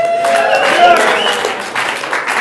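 Comedy club audience applauding and cheering at a stand-up set, a dense wash of clapping mixed with crowd voices, loud and close, holding steady throughout.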